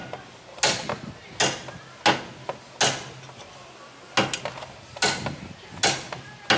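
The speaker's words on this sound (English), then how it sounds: "Smacking out the brake pad." Brake pad being smacked out on a 1991 Toyota Corolla, a series of about eight sharp metallic knocks at irregular intervals, close and clear over low background noise.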